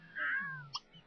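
A cartoonish cat meows once from a Sims 3 Island Paradise pet, a drawn-out mew followed by a short chirp, close and clear with no talking.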